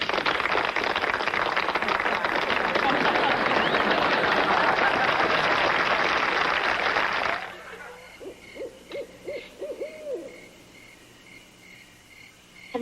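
A crowd at a high school homecoming dance applauds the newly crowned homecoming king and queen. The loud, dense clapping lasts about seven seconds and then stops abruptly, leaving a quiet room with a few soft voices.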